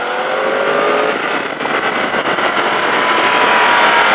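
A Kawasaki Z750 motorcycle accelerates on a race circuit at the Circuit de Bresse. Its loud, close engine roars steadily with a rising pitch for the whole stretch, and nobody speaks.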